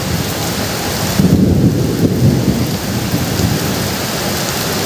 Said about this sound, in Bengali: এখন শুধুমাত্র তীব্র বৃষ্টি রয়েছে, প্রবল বৃষ্টি।